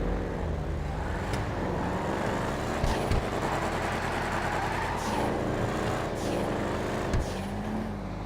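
Cars launching off the line in a GTA 5 street race, revving engines roaring together with rising and falling pitch sweeps and a few sharp bursts, steady and fairly loud throughout.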